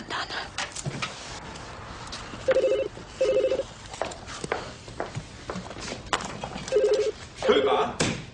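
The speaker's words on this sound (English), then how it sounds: "when the telephone makes that funny ringing noise, you pick up the receiver and you say hello" Telephone ringing in double bursts, a shrill electronic tone heard twice early and twice again later, amid footsteps, movement and voices in a room.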